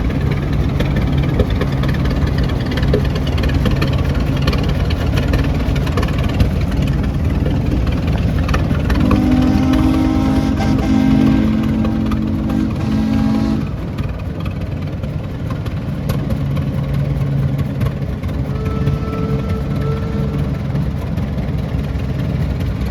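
An old engine at a steam-era show runs steadily at idle, a low, continuous chugging rumble with mechanical vibration, close by and uninterrupted for the whole stretch.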